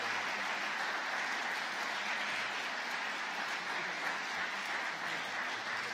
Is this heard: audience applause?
yes